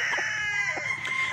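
A rooster, a gamefowl bred for fighting, calls in a short burst with a bright, strained tone, close and fairly loud, with faint clucks around it.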